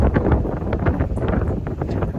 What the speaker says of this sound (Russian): ветер поднимается все сильнее, море волнуется все больше.